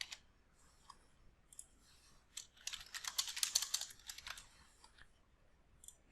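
Keyboard typing while filling out a client form in the Therapyzen client portal, a burst of quick close clicks that clusters densely in the middle, with sparse taps before and after in a quiet room.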